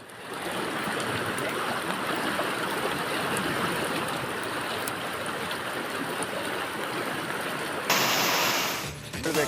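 Heavy rain in Hubli's Ganesh Nagar and Anand Nagar, a loud, steady rushing roar of downpour and flowing floodwater, broadband and unbroken throughout, swelling briefly near the end.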